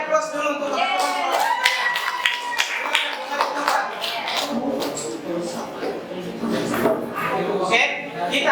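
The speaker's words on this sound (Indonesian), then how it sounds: "beri aplaus dulu untuk teman-teman" Classroom audience clapping for classmates after group presentations in an English for specific purposes class, steady applause of many hands lasting several seconds with voices chattering underneath.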